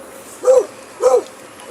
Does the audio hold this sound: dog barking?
yes